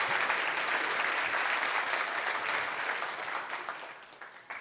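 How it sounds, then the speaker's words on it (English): Audience applause fills the room, steady and dense clapping from many hands that gradually thins and fades toward the end. "give a round of applause to the person sitting next to you"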